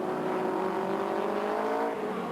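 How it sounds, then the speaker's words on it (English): A race car from the 1994 IMSA Bridgestone Supercar Series at Phoenix roars steadily under load and climbs in pitch through the higher gears, loud and close with no break in the engine note. "Then we get up to speed, up into 4th and 5th gear here"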